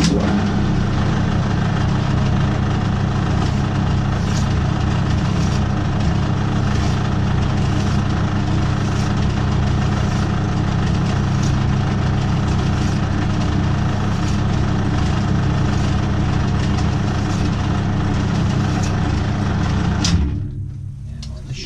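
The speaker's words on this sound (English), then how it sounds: "this is incredibly dangerous over the top of a spinning lathe" Metal lathe spinning while a door pin is turned, a loud and steady motor drone with a constant hum that carries on without a break and then drops off sharply near the end.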